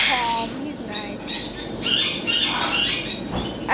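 A cockatiel gives several sharp, close squawks, mixed with scratchy scuffling and people talking over the calls.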